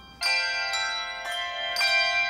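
Handbells ring in Dunblane Cathedral, four clear bright strikes in an uneven sequence, each tone ringing on and overlapping the next in a resonant space.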